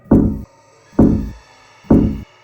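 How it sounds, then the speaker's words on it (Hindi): Three heavy, evenly spaced knocks on a wooden door at around 3 a.m., loud and close, with short pauses between. "रात के करीब 3 बजे जब मेरे दरवाजे पर खटखटाने की अजीब सी आवाज़ आई"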